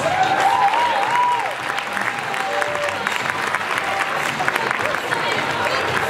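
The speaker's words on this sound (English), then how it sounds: "Another round of applause." An audience at a UCLU Malaysian Night student production breaks into a full round of loud, continuous clapping that holds steady for the whole stretch, with some crowd murmur mixed in.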